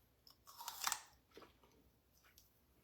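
A single loud crunchy bite into a crisp crabapple, followed by a few softer chewing crunches, close to the microphone.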